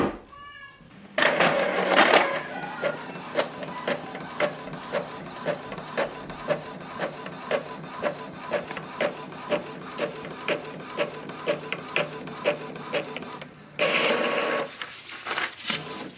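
An Epson EcoTank ET-2400 inkjet printer runs a test page: a loud whir starts, then a steady train of rhythmic clicks and mechanical ticks as the print head shuttles for about twelve seconds, ending in a brief louder feed burst.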